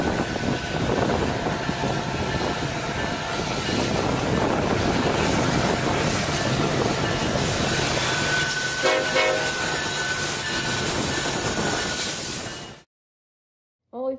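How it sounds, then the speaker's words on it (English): A loud loaded coal train rumbles steadily past nearby in Lincoln, Nebraska, wheels and cars grinding continuously, before the sound cuts off abruptly to silence. "Here we see an OMAX coal train headed for Nebraska City."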